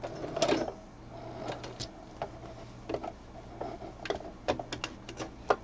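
A sewing machine stitches fabric in short, uneven bursts of rapid clattering, with pauses between runs and a low motor hum underneath, heard up close and fairly quiet.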